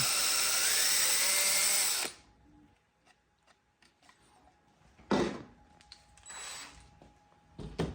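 A power drill drives a screw into a forced thread on a 1/6 scale Sdkfz7 model kit: a loud whirring burst for two seconds, then quiet handling clicks and two short later drill bursts.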